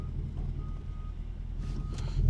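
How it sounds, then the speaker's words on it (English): A garbage truck backing up gives a thin, steady reversing tone at a distance, faint beneath the loud rumbling drone of a car engine and road noise inside the cabin. "there's a big garbage truck over there. It looks like it might be stuck or something."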